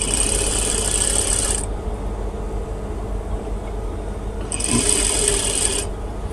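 Sewing machine stitching the side seam of a kameez, running in two bursts of steady high-pitched whirring, about a second and a half each, separated by a quieter pause with faint handling noise.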